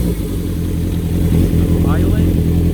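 A 1977 Kawasaki KZ650 with a Delkevic exhaust idles loud and close, a smooth, steady low burble, with a voice speaking briefly over it.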